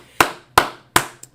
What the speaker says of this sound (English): let's clap it up for class